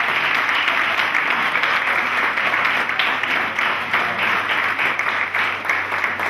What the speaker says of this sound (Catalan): Podeu aplaudir, sí.